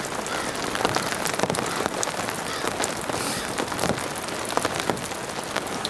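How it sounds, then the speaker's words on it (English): Heavy rain hammers on a tarp shelter during a stormy night of camping with strong winds, a dense, loud and continuous patter with no voices. "because it's raining so hard"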